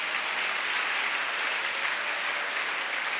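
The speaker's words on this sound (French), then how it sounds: "Let us clap for Job." A church congregation claps steadily in dense, continuous applause that stays even and fairly loud from start to finish.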